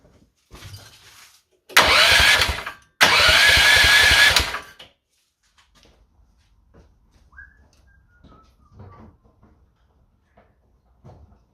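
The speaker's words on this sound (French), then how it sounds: "Un coup de démarreur." A Honda GX 15hp engine, swapped into a Bobcat 440B loader, is cranked by its starter motor in two loud whirring bursts close by. Quiet clicks and small tool noises follow.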